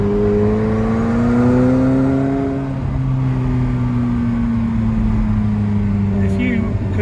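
A McLaren 720S engine drones steadily with rising harmonic tones as it accelerates, loud and close, with a brief gear-shift dip midway.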